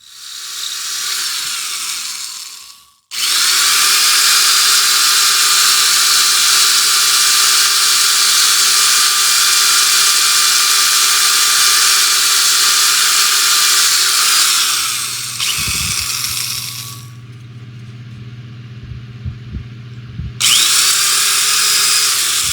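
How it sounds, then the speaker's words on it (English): A loud, high-pitched old, powerful electric drill whines steadily for long stretches, stopping and restarting, with a lower grinding hum in between. "I got my uncle's very old, very powerful drill."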